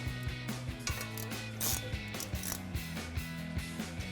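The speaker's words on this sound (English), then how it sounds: "We're gonna put it over our studs and reinstall our T30 bolt. Grab a ratchet and tighten it down." A ratchet clicks rapidly and rhythmically while tightening a T30 bolt on a new PowerStop brake rotor of a RAM 1500 pickup, with steady pawl ticks in repeated strokes, close and clear with no talking.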